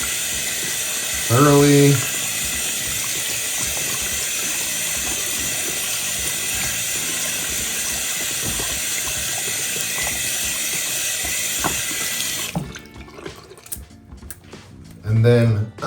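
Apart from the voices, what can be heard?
water from a tap rinsing a coin brush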